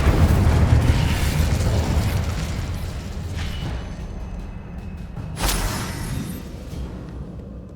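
Confringo and Incendio spell explosions in the video game Hogwarts Legacy: a dense, rumbling blast that fades, followed by a second sharp burst with a whooshing tail.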